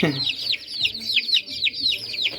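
A brood of chicks in a brooder cheeping constantly, many high, rapid peeps overlapping close by, with a faint voice in the background.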